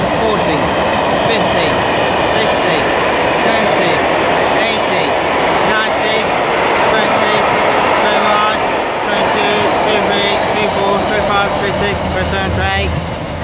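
Freight train hauled by locomotive 66416 passing through Swindon station in Wiltshire, a loud steady rumble and rattle of wagons with rhythmic wheel clatter, while a voice counts aloud over it.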